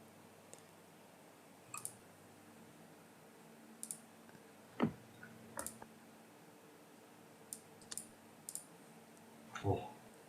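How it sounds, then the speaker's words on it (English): Computer keyboard typing during a tabletop roleplaying game session: sparse, slow, scattered key clicks and taps, faint and close, with short pauses between them and no talk over them. "Sorry, I'm a slow typer."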